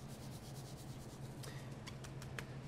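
Dry rub sprinkled by hand onto a raw brisket: a faint, soft granular rubbing patter with a few light taps, close and quiet, with no talking.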